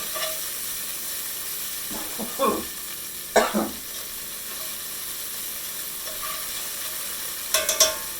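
Shrimp stirred around a hot frying pan for salt and pepper shrimp, with a steady sizzle under several short scraping bursts of stirring, close and moderately loud.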